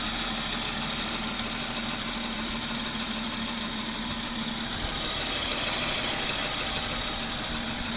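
A BMW X5 G05 engine idles smoothly after an oil pump replacement, a steady, even hum with a faint mechanical whine, heard close and unchanging for eight seconds with no talking.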